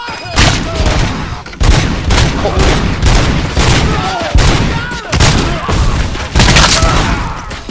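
Dense, loud bursts of gunfire in the video game Robocop Rogue City, rapid repeated shots and booms in clustered volleys, with voices shouting at times over the shooting.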